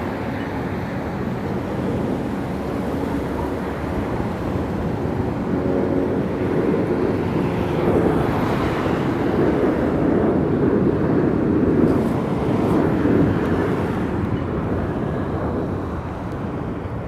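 A jet airplane at Las Vegas Harry Reid International Airport gives a steady, loud, broad roar that holds for the whole stretch and swells slightly toward the middle, with no talk over it.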